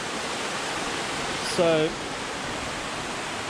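Water flows steadily at the 22 Waterfalls campsite after rain, a constant broadband rush like a nearby waterfall or stream. Someone briefly speaks over it partway through.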